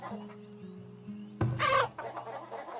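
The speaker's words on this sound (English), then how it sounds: "10 livestock. Boy, that must be chickens." Chickens clucking in the Farthest Frontier video game, a short burst of bird calls rising over a soft game music background.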